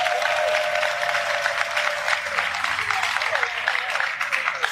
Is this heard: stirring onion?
no